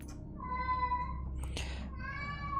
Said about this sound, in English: the cat is probably being heard in the background here